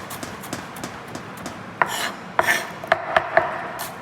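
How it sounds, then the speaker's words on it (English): A knife chops vegetables on a cutting board, giving soft regular taps that turn into several sharper, louder knocks near the end, with no talking. "So this cutting is known as a chopping."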